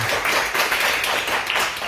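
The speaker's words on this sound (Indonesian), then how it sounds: "Berikan tepuk tangan untuk Tuhan." A church congregation clapping hands together during a worship service, a brief burst of dense, lively clapping that stays loud throughout.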